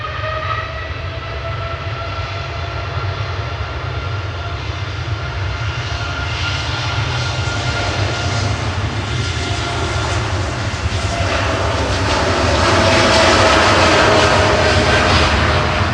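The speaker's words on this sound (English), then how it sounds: "Next to depart, 787-9 heading over to Melbourne in Florida" Boeing 787-9 airliner departing Manchester Airport, its engines a steady broad roar with whining tones that swell louder toward the end as it passes close, alone without talk.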